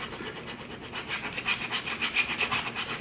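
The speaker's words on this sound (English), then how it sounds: "And you want to burnish that." Vinyl is burnished onto a cold cup with a scraper tool, a soft, steady rhythmic rubbing and scratching of quick repeated strokes, close and quiet with no talk.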